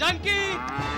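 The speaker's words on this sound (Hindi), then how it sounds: "गाय की आवाज है" A cow moos loudly and close by while a person shouts a single word over it.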